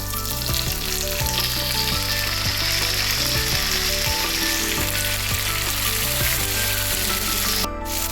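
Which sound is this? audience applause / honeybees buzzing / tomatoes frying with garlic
tomatoes frying with garlic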